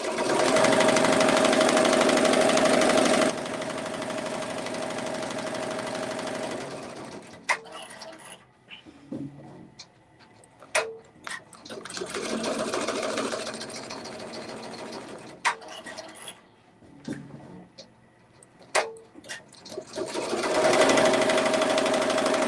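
A BAI 15-needle embroidery machine stitches an appliqué, starting with a loud steady buzz of rapid needle strokes, pausing into quieter scattered clicks and thumps, then resuming the fast continuous stitching at the end.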